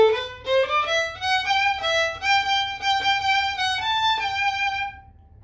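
Solo violin plays the first part of the stanza of the chacarera La Vieja, a lilting melodic phrase of bowed notes rising and falling before fading out, clear and close with no talking.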